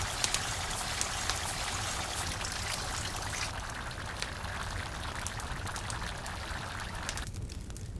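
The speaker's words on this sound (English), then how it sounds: "we add the dry red wine." Dry red wine pours into a wild boar stew cooking outdoors, a steady liquid stream over sizzling and bubbling that runs continuously at low level, then thins out near the end.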